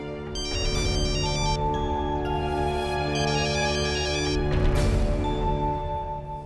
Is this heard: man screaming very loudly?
no